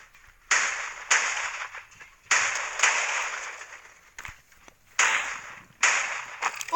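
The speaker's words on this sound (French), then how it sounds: "Oh, quelqu'un me tire dessus." Gunfire in a video game shooter, sharp loud cracks arriving in separate bursts with a few lone shots between them and short decaying tails after each.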